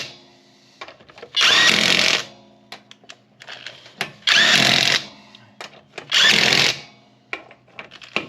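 A GATmatic GEW-800 21V brushless impact driver tightens a wheel nut in three loud, close, rattling bursts of about a second each, separated by quieter clinks and handling noises.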